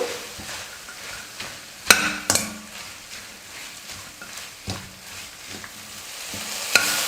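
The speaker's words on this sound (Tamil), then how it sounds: "இப்போ இது எல்லாத்தையும் சேர்த்து 1 நிமிஷத்துக்கு நல்லா வதக்குனா போதும்" Herbs sizzling and being stirred in a pan, with sharp clinks of a utensil against metal around two seconds and again near the end, close and steady.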